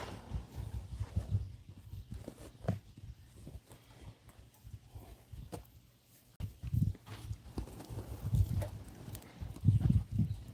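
Hooves clopping in an irregular walking rhythm, fairly close, with low rumbling and shuffling around them and no talk.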